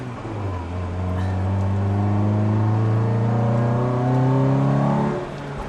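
A 1998 Honda CR-V engine revs steadily upward under acceleration, its rising drone carrying a faint intake induction whistle past 5200 RPM before easing off near the end.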